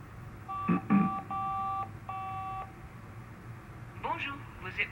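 Telephone keypad tones sound in The Da Vinci Code PS2 video game, several quick dialing beeps in a burst, followed by faint ringing or line noise.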